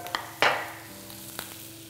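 Bacon rashers drop into a very hot pan with a sudden hissing burst that fades into a soft, steady sizzle, with a couple of light clicks before and after.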